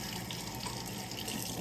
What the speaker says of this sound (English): you just go and you run water under it, and it sizzles and it cools it down super fast